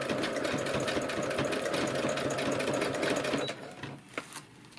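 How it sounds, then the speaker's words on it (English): A sewing machine stitching a washcloth soap saver pocket: a close, rapid, steady mechanical whirr with fast needle ticking for about three and a half seconds, then it stops, leaving faint clicks and handling sounds. "And then begin sewing again."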